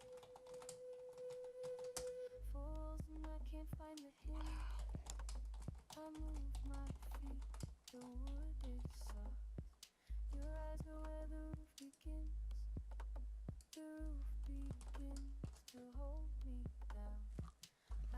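Quick, irregular keystrokes on a computer keyboard, mixed with a louder, steady pitched background sound that runs through most of the clip.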